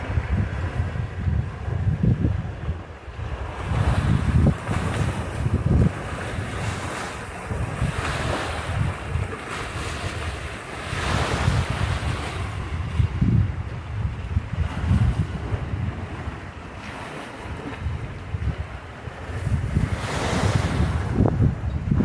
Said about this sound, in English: Just laying in a hammock on the beach in Bohol.